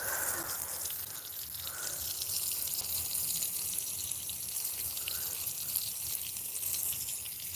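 A garden hose sprays water onto grass with a steady, soft hiss and trickle, fairly faint and continuous, with no talking.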